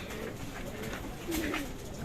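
Pigeons coo softly nearby, a low warbling call rising briefly over a constant noisy outdoor background.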